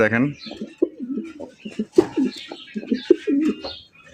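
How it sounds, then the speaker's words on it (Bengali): A large male pigeon from a breeding pair, kept in a cramped cage, gives repeated low rolling coos close by while someone speaks briefly over them. "নরের ডাকটা দেখানোর চেষ্টা করতেছে আপনাদের"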